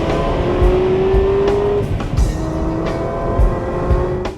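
A Chevrolet Corvette ZR1 accelerates hard, its engine note rising steadily in pitch as the revs climb, then dropping at a shift before pulling again, loud and close with some road and wind noise.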